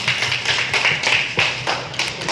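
An audience at a Massey Ferguson tractor launch in Sirsa, Haryana claps, a dense, steady patter of many hands close by with uneven swells, no talk over it.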